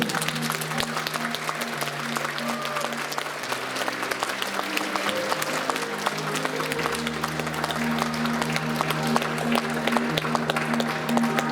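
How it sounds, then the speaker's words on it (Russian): A crowd at an eleventh-grade graduation ceremony in a hall applauds continuously and loudly, with sustained musical tones playing underneath the clapping. "Аплодисменты."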